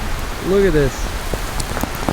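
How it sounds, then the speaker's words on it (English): Heavy rain pours steadily on an overlanding trail beside a 400-foot cliff drop, a dense hiss filling the scene while a person says a few words over it. "it's pouring rain currently"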